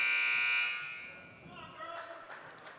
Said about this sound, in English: Buzzer sounds, both teams will head back out.